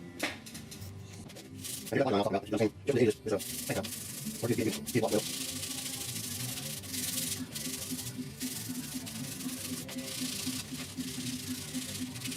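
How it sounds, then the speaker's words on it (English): Block sanding primer on the A-pillar of a rusty 1969 C10 truck, a close, steady abrasive rubbing with a burst of harder back-and-forth strokes early on, then continuous scraping. "we'll sand this A-pillar that you can't see right now"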